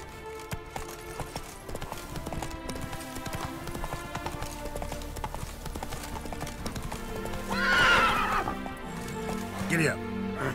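A horse in The Witcher 3 video game gallops with steady rhythmic hoof clip-clops, then gives a loud shrill whinny and a shorter one after, with a voice speaking over the game sounds.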